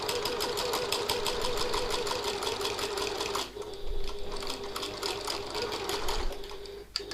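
A sewing machine stitches a seam on a piped-pocket tote bag, its rapid, even mechanical rhythm close and loud, with a brief slowdown midway before stitching resumes.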